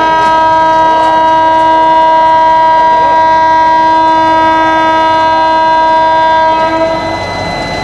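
Express train departing Indore Junction from platform one, its horn sounding a long steady sustained tone through nearly the whole stretch, loud and close over the rumble of the moving carriages, fading slightly at the end.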